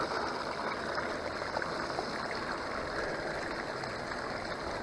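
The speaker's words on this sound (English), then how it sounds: "It's got a nice smooth water flow." Water rushing steadily through a gold sluice fitted with a sawtooth mat, a continuous close hiss and babble with no breaks or voices.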